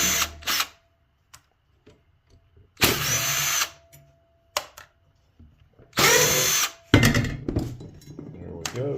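Power drill removing screws from a dehumidifier fan bracket, several short whirring bursts separated by pauses, close and loud, with small clinks and handling noises between them.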